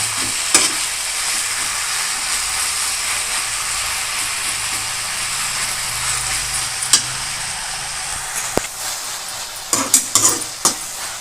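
Puliccha keerai (gongura leaves) fry in oil in a pan, with a steady close sizzle running throughout and scattered scraping clicks from a spatula stirring them, no voices.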